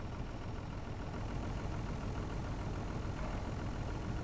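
A 150-horsepower farm tractor idles steadily in freezing weather, a constant low diesel rumble with no breaks, close and moderately loud, with no voices over it.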